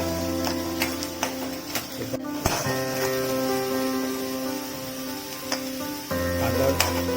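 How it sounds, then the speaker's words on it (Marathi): Onion fries with garlic in a pan for phodshi bhaji, giving a steady close sizzle broken by occasional sharp knocks and clinks from stirring. "चांगला लाल होईपर्यंत परतून घ्यायचा आहे."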